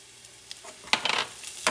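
Chopped garlic hitting a hot pan over medium heat, with faint sizzling and a few short scraping stirs, quiet and close.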